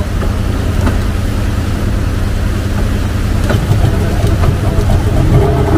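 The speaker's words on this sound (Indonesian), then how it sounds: "menyalakan mesin persiapan untuk menjemput penumpang" A river boat's engine starts up before the boat collects passengers. It gives a loud, continuous mid-pitched rumble with a few knocks and clatters, steady from start to end with no talking.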